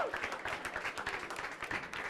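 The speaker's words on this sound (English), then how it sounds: "Come come and grab your applause" Audience applause at a science slam in Barcelona, a dense, steady patter of many hands clapping throughout at moderate, slightly distant level, with faint crowd voices mixed in.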